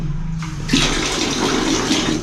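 A toilet flushes in a homestay washroom. A faint trickle of water is followed by a sudden loud surge of rushing, swirling water that keeps churning steadily to the end.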